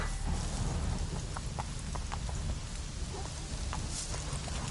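Roach the horse's hooves clip-clopping at a steady pace in The Witcher 3, soft repeated thuds under a constant wash of rain-like background noise.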